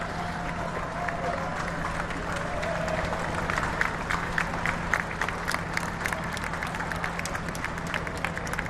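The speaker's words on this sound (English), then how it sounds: "Teammates applauding there." A crowd at a West Indies vs India Test cricket match at Gros Islet applauds a batsman reaching fifty: sustained, dense clapping at a moderate distance over a bed of crowd murmur.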